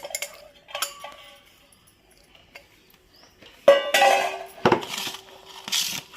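Hot rice is mixed with amla pickle on a plate, with sparse clinks and scrapes of fingers or a spoon against the plate, quiet at first and then a cluster of louder metallic clatters.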